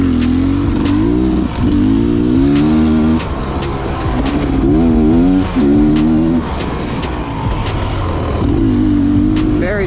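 A Beta X-Trainer dirt bike's torquey engine revs hard and repeatedly close to the rider, its pitch climbing and dropping with each burst of throttle in a loud, continuous run.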